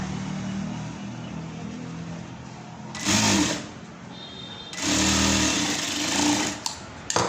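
An electric sewing machine stitches lining onto fabric in two bursts, one short and one longer, each a fast mechanical whir that starts and stops, against a quiet room hum with no voices.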